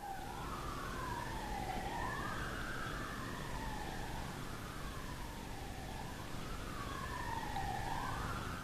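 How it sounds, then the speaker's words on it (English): A police siren wails, rising and falling in repeated slow sweeps, faint and distant over a low background rumble. "That's a police siren."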